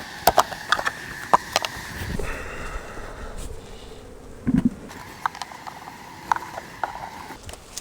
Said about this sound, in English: I'm going to shake the bees that are left into this top box